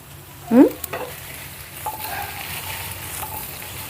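Okra (bendakaya) frying in a pan on a stovetop flame, a continuous crackling sizzle with a sharp utensil clank near the start and a few softer stirring scrapes afterwards.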